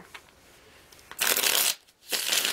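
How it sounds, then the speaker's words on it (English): Tarot cards being shuffled up close, two crisp riffling bursts separated by a short quiet gap. "One more shuffle."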